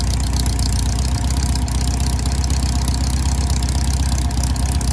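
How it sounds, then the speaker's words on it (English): A 1641 engine with no cam, running after years unused, idles steadily, low and even with a faint knocking pulse, loud and unbroken throughout. "It sounds really nice."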